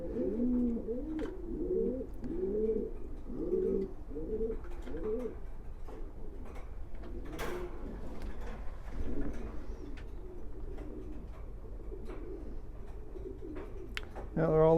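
Racing pigeons coo inside a breeding loft, with repeated soft, throaty rolling calls close by in the first half, then quieter scattered coos and faint rustling, ending in a louder burst of cooing.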